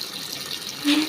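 Water pours into a washing machine holding clothes on its third and last fill, a brief steady rushing stream up close that swells slightly at the end.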